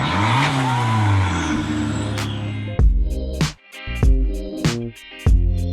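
A small turbocharged Fiat Abarth engine roars loudly as it accelerates hard, then drops into a series of sharp, punchy revs and gear-change bursts with brief gaps between them, close and alone without talk.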